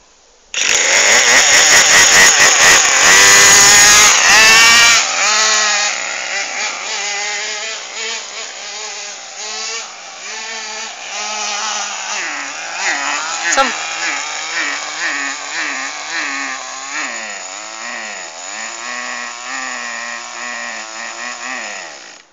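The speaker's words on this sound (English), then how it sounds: "You can say it's your engine is too lean." A two-stroke chainsaw engine running too lean screams at high revs for a few seconds, then drops to an unsteady, surging idle that wavers and bogs for the rest of the clip.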